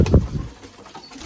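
Pigeons in a loft give a brief, close, low cooing burst, then quieter rustling and faint background noise for the remaining second.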